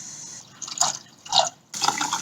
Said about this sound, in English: I'm going to pour in some more hot water.